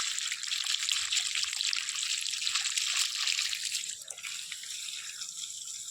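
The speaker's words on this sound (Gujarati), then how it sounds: "તો ગાઈસ અત્યારે આપણે આંબાને પાણી મૂકીએ છીએ" Water running to irrigate mango trees, a steady hissing trickle and splash flowing continuously, fairly quiet and near, easing slightly toward the end, with no voices.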